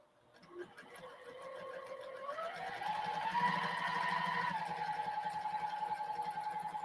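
A sewing machine stitches a reversible holiday handbag, a continuous whirring hum that builds in speed and pitch, then holds steady and fairly quiet without a pause.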